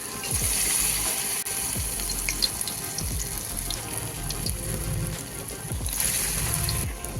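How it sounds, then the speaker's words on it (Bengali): Banana flower fritters frying one by one in hot oil, giving a continuous soft hiss and sizzle with occasional gentle crackles, fairly faint and with no talking over it. "তেল গরম হয়ে গেছে বন্ধুরা আমি এবার দিয়ে দিচ্ছি চপগুলো ভাজতে"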